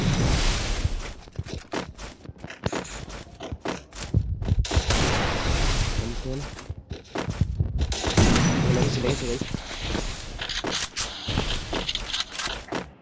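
Gunfire rings out during a Free Fire video game match, with bursts of rapid shots and heavy booms in uneven clusters, loud and close, mixed with footsteps and a player's voice talking between volleys.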